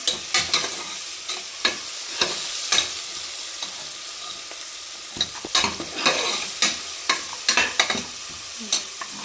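Onion and tomato fry in a pan with a close, crackling sizzle, punctuated by frequent sharp scrapes and clacks of stirring in quick bursts, with no voices.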